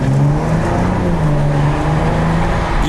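A car with a newly fitted turbo accelerates hard, its engine note steady and loud, rising and pulling continuously up close with no talk over it.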